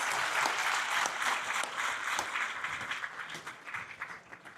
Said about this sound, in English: We can give them another round of applause as they take their seats.